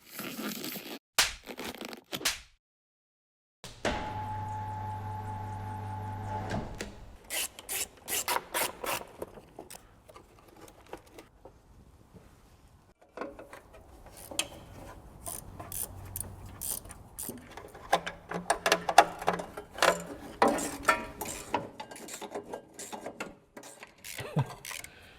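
Tools working on a Land Rover's starter motor during removal give irregular scraping, rasping and clanking bursts, with a steady whining tone in a short stretch early on.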